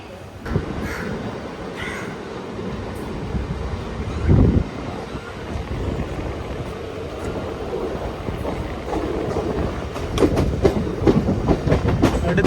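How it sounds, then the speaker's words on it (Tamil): A MEMU passenger train on the Coimbatore–Shornur route rolls out of Palakkad Junction, heard from on board as a steady rumble with wind and intermittent clickety-clack of wheels over rail joints. "பாலக்காடு ஜங்ஷன்லேருந்து நம்ம ட்ரெயின் வந்து டிப்பார்ட் ஆகிருக்குதுங்க"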